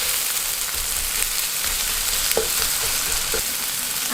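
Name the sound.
onions frying in oil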